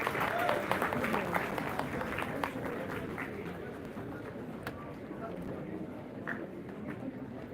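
An audience gives a round of applause to welcome the chief guest at a National Mathematics Day college event, dense clapping that starts strong and slowly thins while a voice talks over it.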